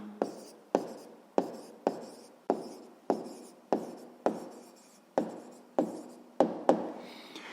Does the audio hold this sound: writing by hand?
yes